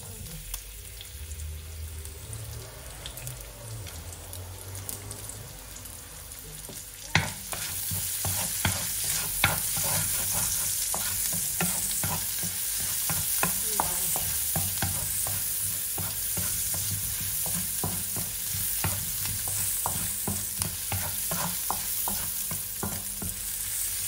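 Onion sautéing in oil in a pan for sautéed bok choy with shrimp. A quiet start gives way to a steady, bright sizzle, broken by repeated scraping and stirring clicks from a utensil, close up.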